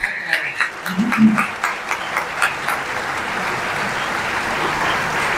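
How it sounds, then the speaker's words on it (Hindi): An audience at an SSC result ceremony in Dera Ismail Khan breaks into applause for a student from Waziristan, starting with scattered claps and a voice, then swelling into steady, even clapping. "ये आपकी भरपूर दाद और तालियों की मुस्तहिक है"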